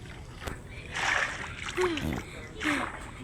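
Water splashes a few times in quick bursts as a Minecraft PE character swims, with a voice chattering nearby between the splashes.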